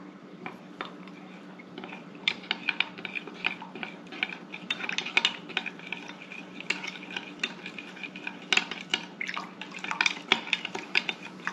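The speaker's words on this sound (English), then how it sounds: "Now, we are going to mix it up really well." Fajita seasoning with cumin being mixed in a bowl, a steady run of close scraping and clinking taps of a utensil against the bowl, irregular and fairly quiet, with no talk.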